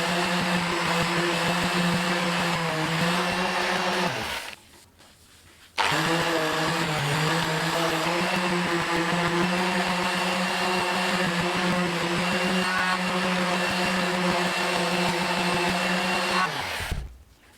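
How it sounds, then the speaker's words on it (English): A power sander fitted with a 400 grit disc whines loudly and steadily as it grinds corrosion off the metal of an old jointer/planer, cutting out briefly for about a second and then resuming before stopping at the end. "I'm using a 400 grit disc on my sander to get rid of some of the corrosion."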